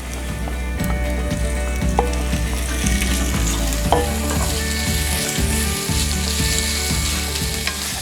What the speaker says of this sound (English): now that our onions are kind of soft and just starting to brown, we're going to add in our beef